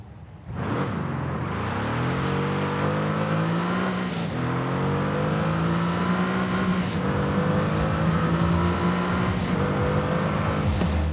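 A Mercedes-Benz GT S in Forza Horizon 5, its engine revving up from idle into a sustained, rising high-rpm roar with brief gear-shift dips, loud and close throughout.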